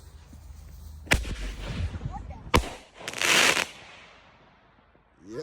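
Fireworks set off on a street in Hackney, London, two sharp loud bangs followed by a longer crackling burst, close by, with people talking and shouting around them.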